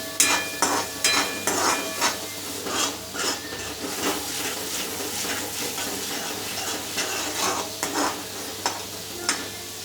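Ivy gourd (tondli) vegetable cooking in a pan, a steady sizzle broken by repeated scraping stirs and clinks of a utensil against the pan, close and moderately loud with no talk.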